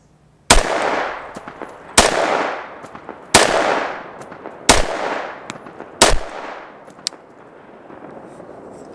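Five loud, close rifle shots from a Ruger SFAR firing IMI Razor Core ammunition, spaced about a second and a half apart, each a sharp crack with a ringing outdoor decay.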